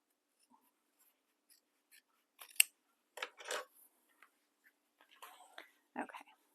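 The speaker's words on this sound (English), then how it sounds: "we're just going to trim a little bit off each side so that they lay together" Scissors snip through fabric for a shoulder bag in short, close, irregular cuts, separated by quiet pauses.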